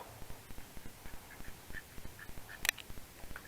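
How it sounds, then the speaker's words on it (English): Bronze turkeys named Gobble and Wobble call in a steady run of short, rhythmic honking notes, fairly close and moderate in volume, with one louder, sharper burst near the end. "that is Gobble and Wobble,"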